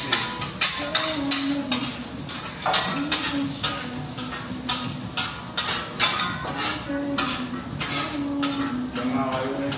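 Food sizzles on a teppanyaki griddle during a show dinner aboard a cruise ship, while metal spatulas clatter and scrape rhythmically against the hot steel, loud and close.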